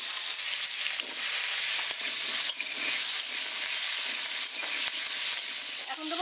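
Potatoes frying in hot mustard oil with spinach stems nearby, a steady bright sizzle running throughout, broken by occasional stirring clicks and spatters, close and unaccompanied by any voice.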